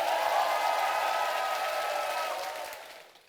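An audience at a Korean talk concert claps together in a dense, steady burst that gradually fades out at the end, heard at a distance with no clear voices.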